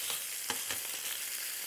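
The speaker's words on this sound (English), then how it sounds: "While that's frying off," Oil frying in a pan, a close, steady crackling sizzle with a few brief sharper pops, alone without voices.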